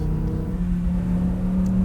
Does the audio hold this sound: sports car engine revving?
yes